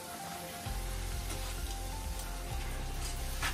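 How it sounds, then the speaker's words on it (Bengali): Luchi, puffed Bengali flatbread, frying in hot oil in a home kitchen during Durga Puja preparations, giving a steady close sizzle and crackle that swells louder after a quiet start and carries on without a break. "লুচি ভাজা হচ্ছে।"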